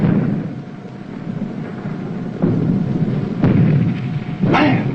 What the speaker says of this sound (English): Those are Darter's torpedoes.